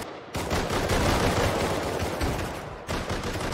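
Sustained automatic gunfire from the video game Rust, loud and close, with rapid overlapping shots running almost unbroken apart from a brief dip near the end. No one talks.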